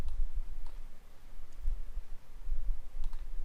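Soft, sparse clicks from a computer mouse or keyboard in a quiet room, a few isolated taps spaced about a second apart, faint and close with no voices.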